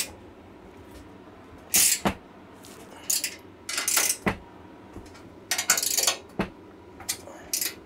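A wrench clicks and clanks while tightening nylock nuts on the bolts of a Stromberg Carlson trailer tray, giving irregular metallic ratcheting and tapping bursts close up with no talking.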